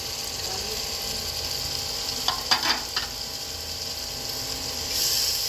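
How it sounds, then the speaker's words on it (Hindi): Whole spices frying in hot oil in a pan for aloo matar pulao, a steady close sizzle with a few sharp scraping clatters of stirring in the middle and a louder hiss near the end. "मसालों को मिक्स करेंगे ताकि जो हमारे मसाले हैं वो भी अच्छे तरीके से कुक हो जाए"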